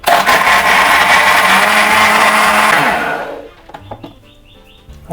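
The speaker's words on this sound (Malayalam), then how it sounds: "നല്ലപോലെ ഒന്ന് അടിച്ചെടുക്കാം" A blender whirs loudly for about three seconds mixing lemon juice with ice and water, then stops, leaving faint clicks and rattles.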